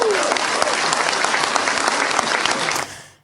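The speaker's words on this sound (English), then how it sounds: "you had the rousing applause there" Rousing audience applause at a Nigerian public affairs discussion, dense and loud clapping sustained for nearly three seconds before tapering off quickly at the end.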